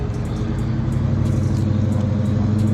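Dodge Challenger Scat Pack engine heard while driving, a steady loud low rumble with a faint ticking layered over it, continuous and close with no talk.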